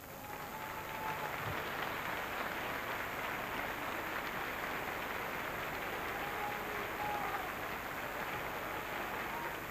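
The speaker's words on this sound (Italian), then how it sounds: "sentite l'applauso del pubblico indirizzato ad Iva Zanicchi" Steady, dense applause from the audience at the Ariston theatre for Iva Zanicchi during the 1979 Sanremo Festival final, sustained at an even, somewhat distant level throughout.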